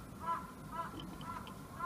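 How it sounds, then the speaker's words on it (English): A crow caws outdoors in a few short, fairly faint calls spaced about half a second apart over steady low background noise. "Big crow."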